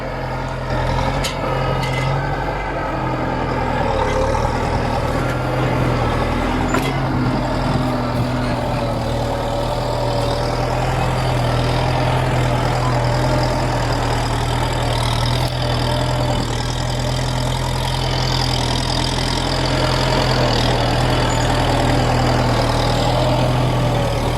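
A Kubota M70 tractor engine runs steadily with its exhaust rumbling, a loud, close, continuous low drone with a slight rise in revs partway through.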